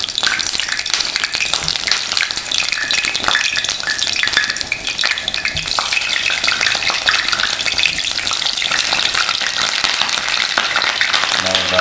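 Sliced pieces laid one by one into hot oil in a pan, producing a dense, loud, steady crackling sizzle that continues without pause.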